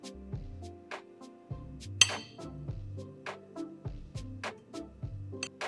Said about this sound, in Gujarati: હવે આ સમોસાના સાંજાને સરસ રીતે આપણે મિક્સ કરી લેશું.